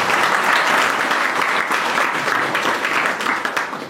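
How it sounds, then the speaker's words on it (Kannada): Audience members clap together in a sustained burst of applause, dense and fairly close, steady for several seconds before easing slightly at the end. "ಅಲ್ಲಿದ್ದವರು ಆಗ ಚಪ್ಪಾಳೆ ತಟ್ಟಿದ್ರು"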